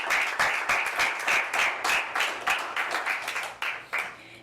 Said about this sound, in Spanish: Y le brindamos un aplauso al Rey de Reyes y al Señor de Señores, a Cristo Jesús